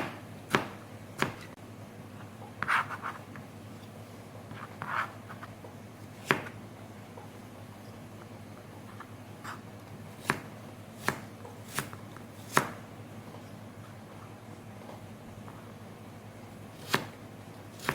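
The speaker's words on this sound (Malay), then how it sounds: "Semuanya kita potong dadu." A knife dices bell pepper on a cutting board for nasi arab mandy, with a dozen or so sharp, close chops spaced irregularly, some in quick pairs, over a quiet background with no talking.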